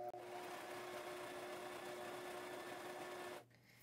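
A cheap Walmart sewing machine stitches a quilt at a long stitch length, giving a steady, even mechanical whir that runs without a break, then stops abruptly near the end.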